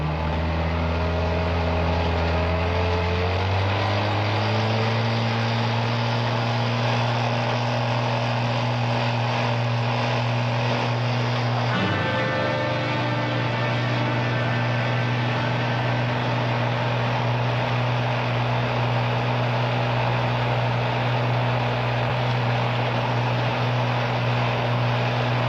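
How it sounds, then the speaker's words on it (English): A speedboat engine drones steadily at night, its pitch rising early and then holding a constant hum, loud and continuous with no talking. "Does that sound like a speedboat to you?"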